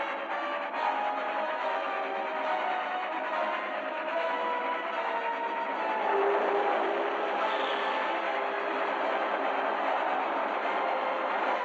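A passenger train passes by in a radio drama sound effect, a continuous rumbling roar at moderate level that swells a little in the middle and lasts the whole time with no voices.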